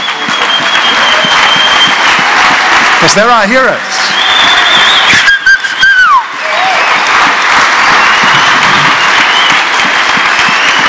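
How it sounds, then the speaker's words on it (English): Sustained audience applause at a church conference session fills the whole stretch, loud and steady, with a voice speaking over it partway through and some whistles cutting in. "I want you to give them a clap"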